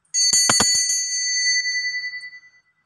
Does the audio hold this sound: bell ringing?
yes